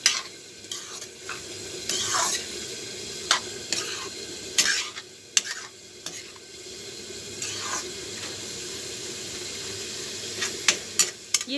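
Assamese vegetable dish cooking in a pan, with steady stirring scrapes and a soft sizzle running throughout, punctuated by brief sharper clinks and scrapes of the utensil against the pan.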